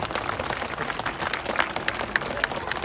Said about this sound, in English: We'll give Ruby a big round of applause.